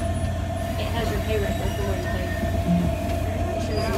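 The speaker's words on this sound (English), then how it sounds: "We are on the train." A train at the Baltimore Railroad Museum gives a steady, rumbling ride with constant low wheel and track noise and a faint squeal, heard from on board, with voices talking over it.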